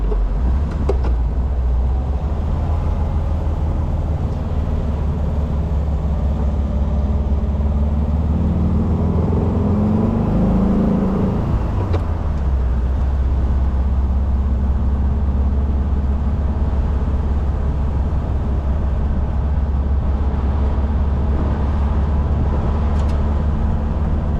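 A 1973 Volkswagen Thing cruising down the road, its low engine drone and road rumble steady and loud throughout, with a brief rise in engine tone midway.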